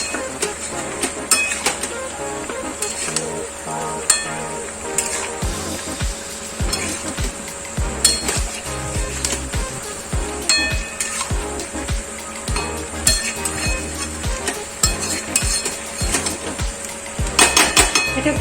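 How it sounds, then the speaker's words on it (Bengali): Chicken with Kashmiri chili powder being sautéed in a pan with very little oil: repeated metallic clinks and scrapes from a utensil against the pan, irregular but continuous, close by and with no talking. "এখন একটু কষতে দিতে হবে একটু কষা হোক এটা"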